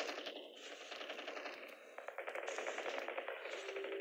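Rapid bursts of AK rifle fire in COD Mobile, a dense run of sharp cracks that start scattered and then quicken into a sustained automatic stream, loud and close with no talk over it.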